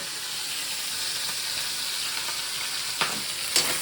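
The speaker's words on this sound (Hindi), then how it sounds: "हम इसे इस तरह से सौटे करेंगे till this one gets like little bit brownish" Pork sautés in a hot pan with a steady, loud sizzling hiss, and two sharp scraping stirs near the end, close up with no talking.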